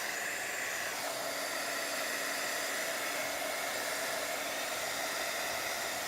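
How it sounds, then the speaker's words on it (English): A quiet heat gun blows hot air in a steady, continuous broadband rush that stays even throughout, with no voices. "I'll get the quiet heat gun."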